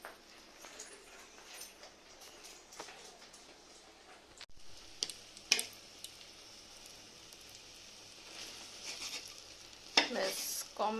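Two eggs frying together as an omelette give a soft, low sizzle close by, broken by occasional clinks and stirring scrapes, with louder clatter near the end.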